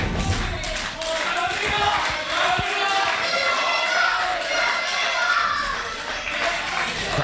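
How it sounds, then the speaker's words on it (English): A crowd at a live wrestling title match in a village hall chants and shouts continuously, fairly loud and close, with scattered claps and thumps mixed in and children's voices audible. "Crowd chanting at James Farrell not to give up, and he certainly isn't."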